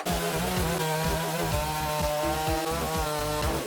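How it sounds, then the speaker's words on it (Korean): A hydraulic log splitter works through firewood, giving a steady, loud mechanical drone with a rhythmic pulsing beat that continues throughout. "직접 이 나무를 자르면서 한번 테스트를 해볼게요"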